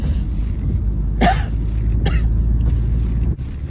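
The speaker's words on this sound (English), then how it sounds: "Imagine if I had an uncontrollable coughing fit." Two short, harsh coughs from a man who has a virus, heard close in a workshop over a low background rumble.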